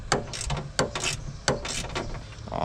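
Ratchet wrench turning a bolt on a car during a catch can and PCV delete install, giving a few short, sharp mechanical clicking bursts close up, with no talking.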